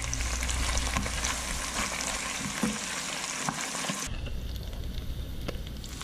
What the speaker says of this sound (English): Now that meat is fried out pretty good.